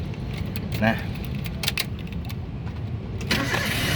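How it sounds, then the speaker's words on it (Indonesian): The engine of a 2010 Toyota Avanza 1.3 G manual cranks and turns over, settling into a steady low rumble, with a brief metallic jingle like keys near the start. "sekarang kita coba nyalakan mesinnya."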